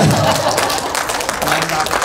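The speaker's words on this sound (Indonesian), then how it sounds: "Tepuk tangan anak-anak." Children clap their hands together in a short burst of scattered, overlapping claps, fairly loud and close, with voices talking over them.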